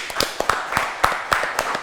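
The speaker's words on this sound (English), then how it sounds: "Give a good clap to the Oakville team, please." A small audience applauds a quiz team on a Ramadan quiz show, a brief, thin spatter of claps at an uneven rhythm from a few people nearby.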